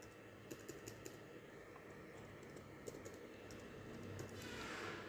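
A short SQL command is typed on a computer keyboard in quick, light clicking keystrokes, close but quiet over a steady background hiss, with no talk.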